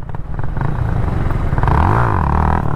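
A motorcycle engine revs under the throttle at close range, loud and rumbling, with a rising and falling rev sweep in the second half.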